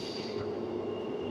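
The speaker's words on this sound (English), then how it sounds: "We'll just watch this train going to the siding" A train near Perth station rumbles past at close range on its way to a siding, with a steady roar, a high squealing tone from the wheels, and no talking.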